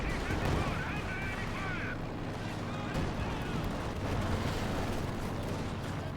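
Battle in the video game Company of Heroes 2 comes through as dense, loud gunfire and explosions. Light machine guns rattle inside the wall of noise, and a voice talks over the fighting.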